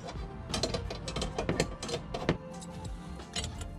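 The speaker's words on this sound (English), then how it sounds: "Now that I've got it started, I gotta finish it off with this wrench." A wrench tightening the gas line fitting on a new 3-way fridge in a vintage camper: a run of close, faint metallic clicks and ratcheting ticks in an uneven rhythm, with no talk.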